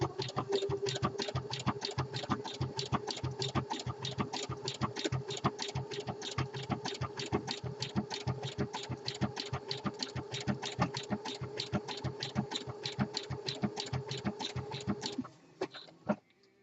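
A home sewing machine runs steadily for about fifteen seconds, its rapid needle strokes forming an even mechanical rhythm while topstitching a fabric pouch, then slowing and stopping near the end.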